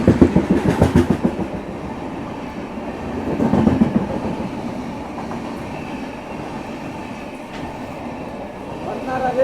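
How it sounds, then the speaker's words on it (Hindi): Magadh Express passenger train running on the rails after leaving Etawah Junction, a steady rolling rumble with clattering wheel beats, louder bursts near the start and around the fourth second. "गाड़ी हमारी इटावा जंक्शन रेलवे स्टेशन से डिपार्ट करी है"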